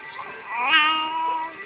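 A cat gives a single drawn-out meow, close and clear, rising in the middle and trailing off, with nothing else heard.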